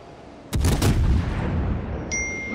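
Main battery of HMS Fiji, a World of Warships cruiser, fires 152 mm guns in a loud close salvo of several booming blasts that roll into a long rumbling tail, with a brief high tone near the end.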